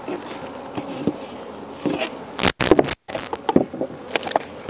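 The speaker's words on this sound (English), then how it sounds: "Shaking bees." Honey bees swarm and buzz loudly while being shaken from frames into a starter hive, a dense continuous drone broken by a few sharp knocks and brief gaps.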